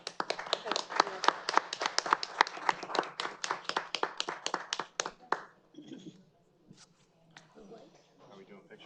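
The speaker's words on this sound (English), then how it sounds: "I'm going to give you a clap." Hands clapping steadily at a township council meeting after a 5-0 vote, a fast, even run of sharp claps for about five seconds, then fading into quiet murmuring voices and room noise.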